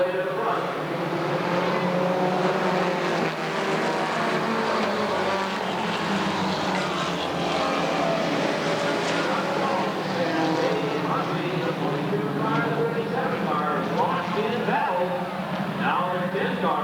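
Race cars roar continuously around a dirt oval at Redwood Acres Raceway, with a dense, evenly matched pack of engines and a race announcer talking over them throughout.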